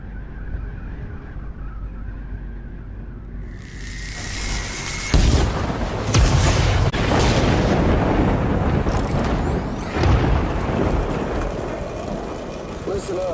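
Thunder rumbles and rain pours in Death Stranding: heavy broadband rain noise and deep booms start about five seconds in, with sharp cracks near 5, 6 and 10 seconds, loud and continuous after a quieter ambient opening.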